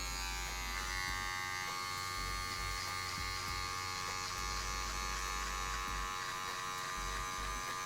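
An electric hair clipper with a number 1 guard on its medium setting runs continuously through a fade haircut, a close, steady motor buzz with small shifts as it moves over the hair, and no talking.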